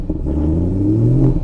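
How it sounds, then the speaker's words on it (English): A BMW E92 M3 engine, freezing cold just after start-up, gets a gentle rev: a steady close-up rumble swells slightly and rises in pitch, then holds near the end, with no talking. "we'll give it a slight rev"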